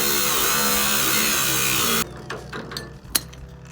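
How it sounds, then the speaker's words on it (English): A power tool cuts off a trailer lock on a 1953 Chevrolet 1300 truck rescue, a loud, steady, harsh grinding roar for about two seconds that stops abruptly, followed by a few clanks and knocks. "The first order of business is to cut off my trailer lock because I lost the key."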